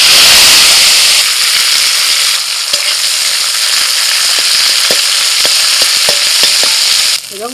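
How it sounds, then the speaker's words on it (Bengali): Neem leaves frying in hot mustard oil in a kadai make a loud, close sizzle that fades slightly, with scattered sharp taps from stirring and no one speaking. "কড়াই সর্ষের তেল দিয়ে দিয়েছি, তেল গরম হয়ে গেছে। এবার নিম পাতাগুলো ভেজে নেব।"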